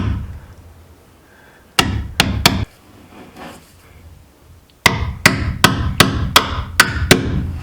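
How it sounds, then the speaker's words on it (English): Sharp metallic hammer strikes ring out close by, driving a TruXedo ProX 15 part into place on a 2021 Jeep Gladiator Rubicon: three quick blows, a short pause, then seven more evenly spaced hits. "I have to hit it with like the hammer to make it go in"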